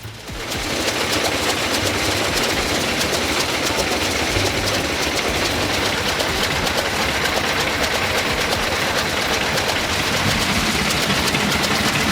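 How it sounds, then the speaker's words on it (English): An old 45-horsepower rotary engine runs steadily and loudly, a dense continuous mechanical clatter that holds at an even level for the whole stretch with no talking. "rotary engine producing up to 45 horsepower"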